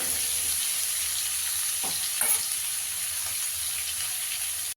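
Potatoes frying in a pan give a steady close sizzle throughout, with a couple of brief scraping stirs near the middle and no voices.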